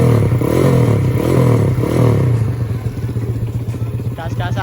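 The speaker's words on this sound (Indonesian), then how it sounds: "Ayo kita coba gas satu kali lagi." Honda Astrea Grand motorcycle with a 200cc engine revving loudly up close, a sustained roar with rising and falling pitch that settles into a rougher, choppy idle toward the end.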